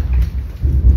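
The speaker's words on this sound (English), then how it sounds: "It's thundering too." A loud, close rumble of thunder rolls through a rainstorm, with heavy rain hissing steadily underneath for a brief moment.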